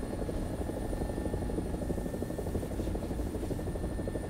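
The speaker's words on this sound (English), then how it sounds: "Helicopter's vibrating a lot." An AB 205 helicopter in a video game, its rotor and engine giving a loud, continuous, throbbing drone close by with no talk over it.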